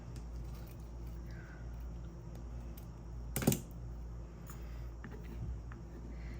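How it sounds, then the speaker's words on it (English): A single sharp snip of jewelry wire being cut during a jewelry-making session, one brief loud click around midway over a steady low background hum, with no talk. "So let me cut off a little bit more wire."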